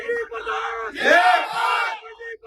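A political rally crowd roaring and cheering loudly in a single swelling burst, with shouting voices over a continuous crowd din.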